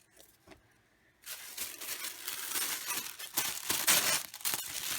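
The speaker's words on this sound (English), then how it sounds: "probably didn't even hear me over that rip" Tissue paper from a shoebox tearing in a long, loud, crackling rip that starts after a second of near silence and keeps crinkling and tearing close up.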